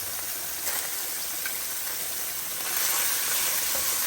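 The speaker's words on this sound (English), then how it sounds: "once the butter is fully melted, I'm just going to add my minced garlic" Minced garlic, three cloves, sizzles steadily in melted butter in a pan for a creamy shrimp pasta, a close, continuous hiss that swells slightly louder toward the end, with no talking.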